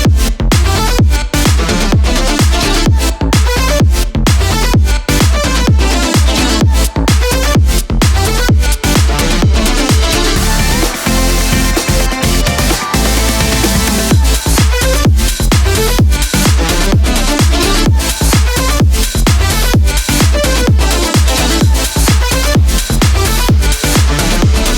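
An original song plays as a loud, dense produced track with steady punchy beats and a full mix running throughout without pause.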